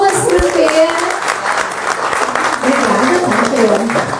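Applause from an audience gathered in a café-lounge shop for a talk, scattered clapping running under people talking and some tonal voices, moderately loud throughout.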